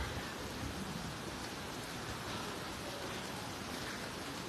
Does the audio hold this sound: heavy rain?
yes